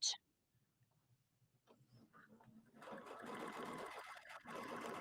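A sewing machine stitches a hidden zipper into a pillow back: a sharp click, a few seconds of near quiet with faint handling, then a steady whirring run of stitching to the end.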